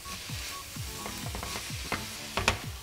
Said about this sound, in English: and give it a stir.